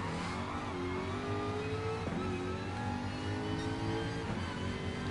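A Jaguar race car's engine in a Gran Turismo Sport VR race screams continuously and loudly, climbing in pitch through the revs with brief dips at gear shifts.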